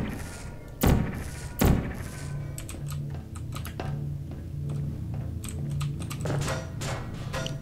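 Cubes thrown in the Portal mod Gamma Energy land with two heavy thuds close together near the start, followed by a run of light clicky taps over a low steady hum.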